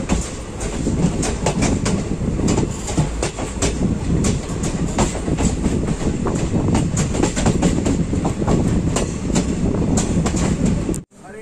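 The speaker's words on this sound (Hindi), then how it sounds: "7:42 पे हम लोग की जो ट्रेन है वो डिपार्ट कर चुकी है रजवाड़ी रेलवे स्टेशन से" A passenger train on the Varanasi to Mau line pulls out of the small Rajwari railway station, a loud, close, continuous rumble with rhythmic clickety-clack wheel beats throughout, ending abruptly.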